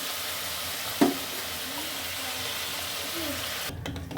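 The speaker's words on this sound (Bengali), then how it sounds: "এবার সমস্ত মশলাটা দিয়ে খুব ভালো করে নাড়িয়ে নিলাম।" Spices are stirred into a pot of cauliflower, potato and pea khichuri over a steady, loud sizzle, with one sharp knock of the spoon early on and a shift in the sound near the end.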